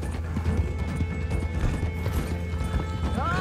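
Horses pulling a stagecoach in the Red Dead Online video game: steady clip-clop of hooves with rolling wheels and a whinny near the end, dense and continuous.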